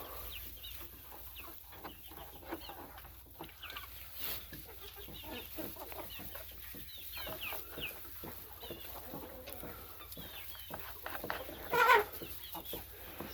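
Laying hens clucking in a farm coop, scattered soft clucks and murmurs at moderate distance with one louder squawk near the end, over light background rustling.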